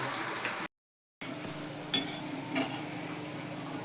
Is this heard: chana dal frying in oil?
yes